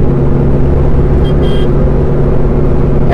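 A Chevrolet Beat diesel car engine runs with a steady, low droning rumble throughout, close and continuous, with no voices.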